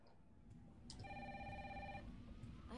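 A telephone rings in the Resident Evil 3 Remake video game, a single electronic ringing burst of about one second over a low ambient hum, faint overall.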